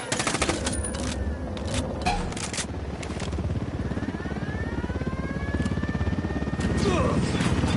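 An armed helicopter in a video game, with rotor drone and repeated bursts of machine gun fire, loud and continuous throughout, while voices talk over the combat.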